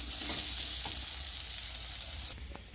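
Potatoes sizzle steadily in a hot pan with oil, a dense continuous crackle that runs near and fairly loud, then drops slightly toward the end.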